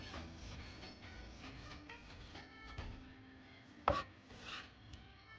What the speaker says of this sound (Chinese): 再顺着纹路切成细丝